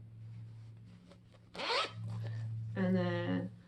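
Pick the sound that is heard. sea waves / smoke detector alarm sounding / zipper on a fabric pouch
zipper on a fabric pouch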